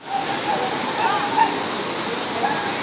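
Ezharakund waterfall pours in a steady, broadband roar of falling water that holds at an even level throughout, with faint voices of people bathing below mixed into the wash.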